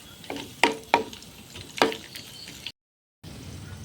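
Cashews and raisins fry in ghee for pineapple payasam, with a soft sizzle under a few sharp scraping stir strokes. The sound cuts out briefly, then the faint frying resumes.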